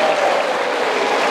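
A dense, steady wash of audience applause at a church sermon, loud and close, filling the whole brief moment without any talk over it.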